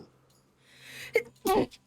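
A character in the Hades II video game lets out a short sneeze, a quick breathy burst that follows a brief intake and stands out against quiet game ambience.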